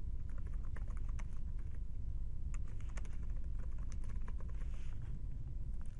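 Steady, close keystrokes on a computer keyboard as a label is typed into a CRM 2013 form field, continuous clicking patter over a constant background hum with no talking.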